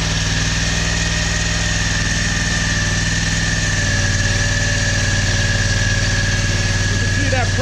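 A power steering pump runs on a test rig as its flow is restricted, giving a loud, steady mechanical hum and whine close up, its low drone thickening slightly partway through as the load rises.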